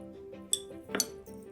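A few light clinks as jasmine tea is spooned into a farmhouse filter teapot: two or three brief, quiet metallic taps against ceramic with soft rustles between, no voices.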